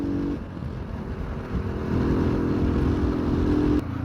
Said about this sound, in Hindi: पीछे रोड अच्छी थी तो मैंने कहा क्यों ना बाइक को थोड़ा सा खींचा जाए।